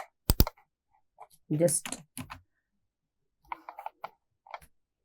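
Clicking keystrokes on a computer keyboard as a database query is entered, a few sparse taps and short bursts spread across the span, with a brief spoken word and some low murmuring mixed in.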